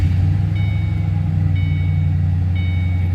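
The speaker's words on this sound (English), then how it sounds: "You can hear the blower and hear the nice rumble out of that center dump exhaust." A supercharged 2008 Ford Mustang Saleen S281 with a center dump exhaust idles steadily, giving a deep, constant exhaust rumble with a faint high blower whine riding on top, close and loud, with no talking.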